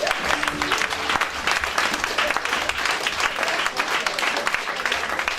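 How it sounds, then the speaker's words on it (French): A church congregation applauds continuously, with dense, loud clapping from many people filling the hall for several seconds. "Acclamons le Seigneur."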